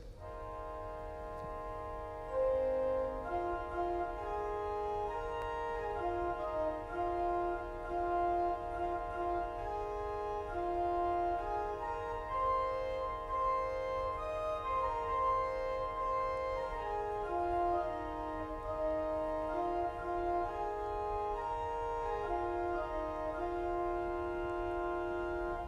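A hymn tune built on a five-note pentatonic scale plays alone as a clear, slow single melody line over sustained accompanying tones, steady and moderately soft throughout.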